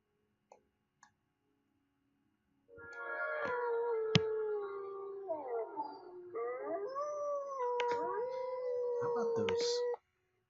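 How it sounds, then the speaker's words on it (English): Wolves howling in Yellowstone National Park: several long, wavering howls overlap and rise and fall for about seven seconds after a couple of faint clicks, fairly close and clear with no talking. "How about those wolves? The howling just really makes something."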